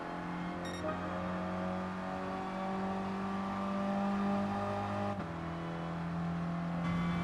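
A Mini's engine and exhaust drone steadily in Gran Turismo Sport, a sustained tonal hum that holds pitch, dips briefly near the end and then resumes, heard alone without voices.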